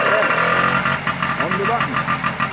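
The 98cc engine of a 1950 Bown Auto Roadster motorcycle catches and runs loudly and close up, with a rough, steady putter over continuous engine noise, while a voice talks over it.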